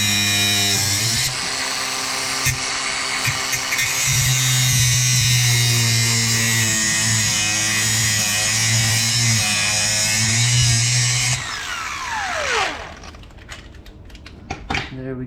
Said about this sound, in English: I got the grinder. I'm gonna go ahead and just grind one of these links off.